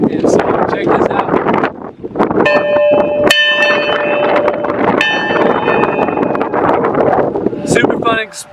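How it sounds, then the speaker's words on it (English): A historic church bell rings at the Parowan Bell House, with two or three loud metallic strikes whose tones ring on, heard outdoors amid wind noise and someone speaking. "The bell is live and active, so check this out."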